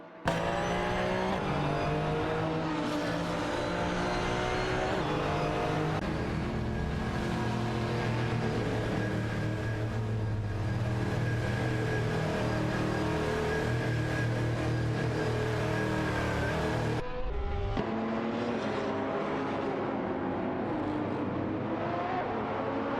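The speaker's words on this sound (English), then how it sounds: "Androvake is behind the wheel of a Lamborghini Gallardo GT 3" Race cars from a racing video game, a Lamborghini Gallardo GT3 among them, scream past in a continuous loud engine roar with rising and falling gear pitches, ending in an abrupt downshift and a sharp drop in sound.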